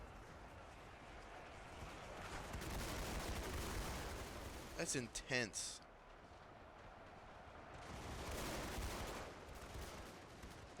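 Massed musket volleys from a large British and French battle in Ultimate Epic Battle Simulator II build into a dense, crackling roar of distant gunfire, with a quick burst of rapid close shots midway and a voice reacting briefly.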